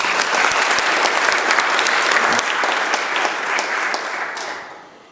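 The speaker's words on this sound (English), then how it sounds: "Give her a big round of applause." Legislative chamber audience applauding for a community member, sustained loud clapping from a crowd that tapers off and fades out near the end.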